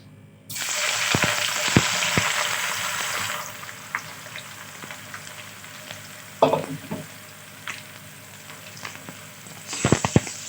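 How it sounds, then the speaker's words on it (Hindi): Sliced onions dropped into hot oil for chana aloo biryani burst into a loud, dense sizzle that fades to a lower crackle, with scattered clanks and scrapes of stirring and a renewed hiss near the end, no speech. "अभी तेल गर्म हो चुका है, इसमें मैं ये प्याज ऐड करने वाली।"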